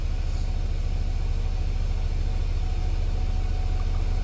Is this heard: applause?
no